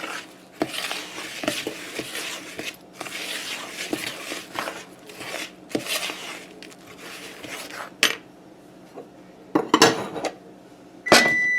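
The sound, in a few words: mixing dry ingredients together in a bowl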